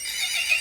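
A horse gives a short, bright whinny, close and clear, lasting under a second.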